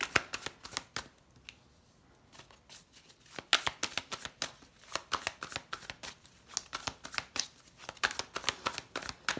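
Tarot cards being laid out one by one on a table, producing close, crisp slaps and shuffling flicks in irregular bursts with quiet pauses between.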